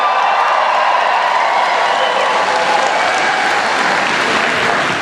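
A large, enthusiastic political rally crowd of thousands in Portland claps and cheers continuously, a dense, loud wash of applause sustained throughout.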